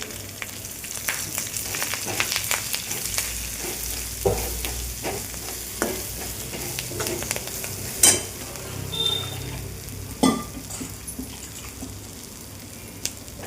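Leftover chapati pieces are sautéed in a pan, giving a steady soft sizzle with repeated scraping stirs of a spatula and occasional clinks against the pan.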